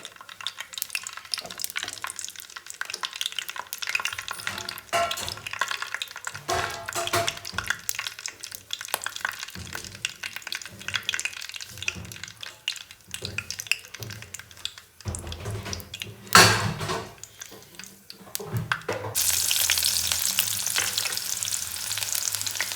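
Mustard seeds crackle and sizzle in hot oil for a brinjal dish, a steady close frying hiss with scattered pops and one sharper burst near the end, no talk over it.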